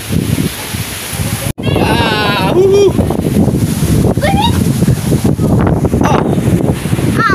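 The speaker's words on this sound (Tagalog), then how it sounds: "Laki ng alon." Big ocean waves crash loudly and continuously with strong wind buffeting the microphone, while several people talk and exclaim excitedly over the surf.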